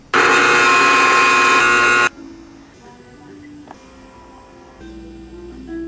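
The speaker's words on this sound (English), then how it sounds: "Drill holes for the string ferrules and for the tuning keys." A loud, high-pitched drill whines steadily for about two seconds, drilling holes in wood for an electric violin, then stops, leaving quieter workshop noises and faint rattling.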